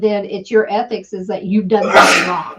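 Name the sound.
sneeze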